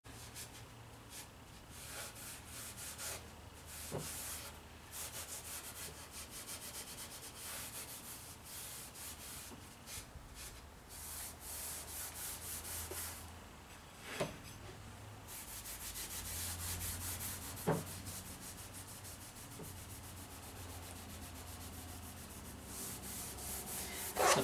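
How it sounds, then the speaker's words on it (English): Hand polishing of a wooden cabriole-leg end table finished with three coats of polyurethane: a soft, steady rubbing that runs continuously at low level, with a few faint knocks scattered through it and no speech. "This is just polishing it to a very soft, smooth finish."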